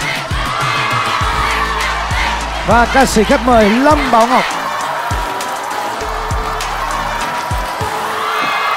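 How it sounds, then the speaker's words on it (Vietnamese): A studio audience at a rap competition show applauds and cheers with whoops, the crowd noise running under a host's voice and a vibrato-heavy shout partway through. "Xin một tràng pháo tay"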